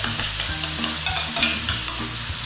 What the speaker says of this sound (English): And then in with our tomato puree.